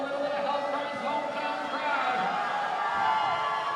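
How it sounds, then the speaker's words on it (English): Crowd at a national bouldering championship semifinal cheering on a climber, a steady broad murmur of voices and shouts across the whole stretch with an announcer talking over it. "Crowd getting psyched for Palmer Larson right now"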